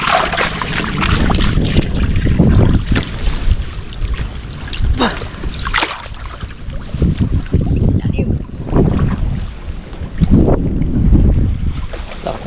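Strong wind roars across a boat at sea, a steady, loud, gusting rumble with buffeting on the microphone and faint splashing water underneath.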